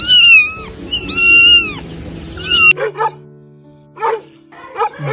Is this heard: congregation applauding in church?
no